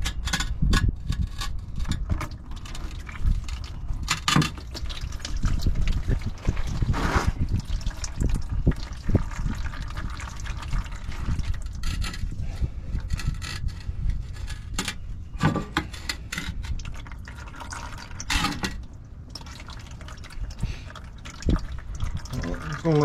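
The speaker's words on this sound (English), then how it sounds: "I'm gonna let that drain for a second." Oil draining from a car's oil pan into a catch container, a steady trickling liquid stream with drips running throughout, close to the microphone, with talking over parts of it.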